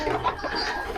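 Chickens cluck softly in a pen kept among turkeys, with short, murmuring calls overlapping in a steady, close barnyard chatter.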